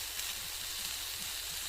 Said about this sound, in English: So we're frying this up.